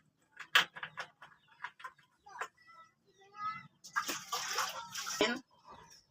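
Water splashes and sloshes as a cooking pot (kaldero) is rinsed clean in a home kitchen, in short irregular bursts with scraping and clinks, under someone talking.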